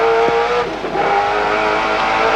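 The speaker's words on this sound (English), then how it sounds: "This is a very fast part of the racetrack through here, and the car looks beautifully settled today." A race car at speed on a very fast section of the Bathurst circuit in 1992, with a sustained high engine whine and a brief shifting dip, loud and close.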